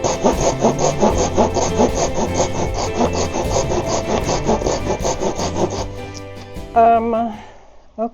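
Japanese hand saw cutting wood in a miter box, a close, rapid series of rhythmic rasping strokes for about six seconds, then slowing and stopping amid light handling noises.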